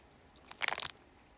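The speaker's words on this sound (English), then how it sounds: "They take forever to chew." Haribo gummies being bitten and chewed, a quick cluster of faint, close, crunchy squishes lasting under half a second against a quiet background.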